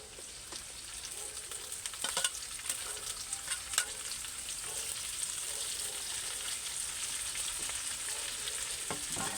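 Banana heart fries with pork in a pan under a steady, crackling sizzle. A few scraping stirs come through early, and the frying grows a little denser and louder as it goes on. The sound is close, with no talking.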